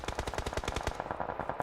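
Rapid automatic gunfire sprays in a PUBG Mobile pro league match, about a dozen sharp shots in an even burst, fairly faint with a slight echo and no talking.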